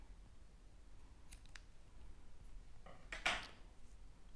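A pair of scissors cuts a strand of knitting yarn, a short close snip after a few light handling rustles in a quiet room.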